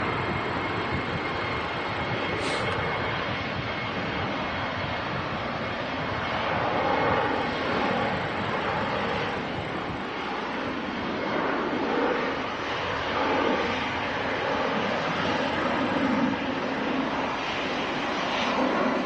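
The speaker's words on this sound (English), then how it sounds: "Yeah, that's an A320, all right." An easyJet Airbus A320 airliner passing, a continuous broad engine roar that swells gently and holds steady at middle distance, with no voices.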